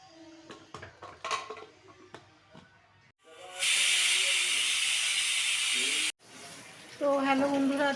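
A covered pressure cooker holding braised mutton lets out loud, continuous steam hisses in two long stretches, broken by a sudden cut. Earlier there are clattering knocks, and later a voice talks over the hissing.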